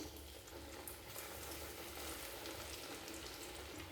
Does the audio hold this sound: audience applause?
no